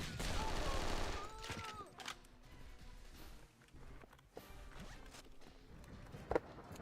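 James Bond 007: Nightfire PC game gunfire: a rapid burst of automatic shots at the start, then a few scattered single shots and clicks over a quieter background, moderately loud.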